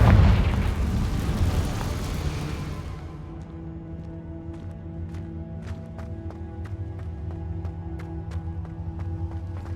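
A Confringo spell blows up in Hogwarts Legacy as a loud, close burst that rumbles away over about three seconds. Steady game ambience follows with a hum and repeated light ticks.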